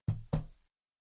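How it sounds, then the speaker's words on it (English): Two quick, close knocks on a wooden surface, evenly spaced and short-lived, with nothing else around them. "Knock on wood."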